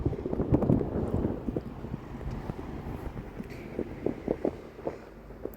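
Cold wind blows at a roadside spot near Thimphu, Bhutan, buffeting the microphone with a continuous low rumble and stronger gusts in between.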